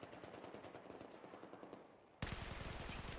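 Rapid automatic fire from an ACE52 CQB rifle shooting 7.62 NATO rounds in Battlefield 4, loud sustained bursts of evenly spaced shots that grow louder and closer near the end, with no talk.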